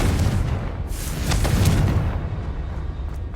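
A Confringo blasting spell going off in the video game Hogwarts Legacy makes a loud, rolling explosion with a sustained roar that swells and slowly fades over a few seconds.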